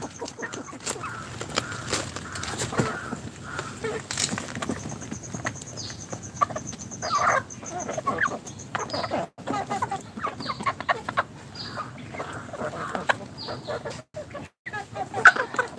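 Many chickens on a poultry farm cluck and call continuously, a busy, close chorus of overlapping bird voices with no talking.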